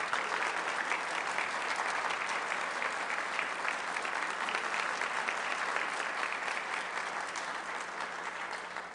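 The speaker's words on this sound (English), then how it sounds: "Please give Taylor Baldwin a big round of applause." A Rotary Club meeting audience gives a big round of applause, dense steady clapping from a roomful of people that holds throughout and eases slightly at the end.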